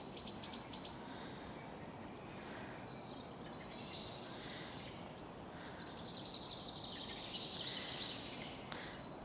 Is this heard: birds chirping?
yes